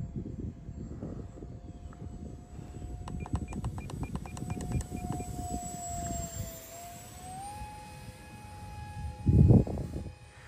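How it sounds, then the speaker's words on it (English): A MiG 17 model airplane flies on a 4S battery, its electric motor a steady whine that shifts pitch as it passes, with a brief loud burst near the end. "Wow, what a good flying plane."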